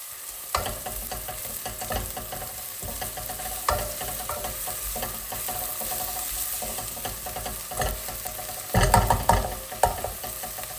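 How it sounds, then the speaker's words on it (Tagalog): Onions frying in hot olive oil in a pan, a steady close sizzle with stirring scrapes and clatter throughout, growing louder and busier near the end. "Tapos ngayon dahil mainit na ang ating oil, pour na natin ang ating"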